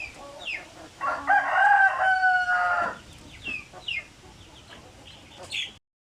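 Native chickens cluck and call around their feed, one rising to a loud drawn-out crow in the middle, with scattered shorter clucks before and after, heard nearby outdoors.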